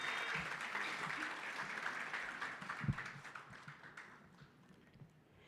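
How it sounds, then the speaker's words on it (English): Conference attendees clap for a speaker taking the stage, a moderate, fairly distant round of applause with a few louder taps, tapering off gradually. "Can you give a round of applause,"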